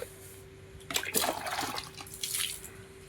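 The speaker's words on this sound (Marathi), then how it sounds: "हे भरायला लागलं पाणी" Water pours in and starts filling a container, a gushing, splashing rush that begins abruptly after a second of quiet hum and carries on unevenly, close by.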